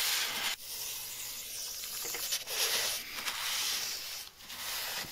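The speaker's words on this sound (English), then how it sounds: "make sure you clean it with disc cleaner" Disc cleaner hisses from a spray can onto the rear brake disc of an Opel/Vauxhall Zafira B, in several close, bright bursts broken by brief pauses.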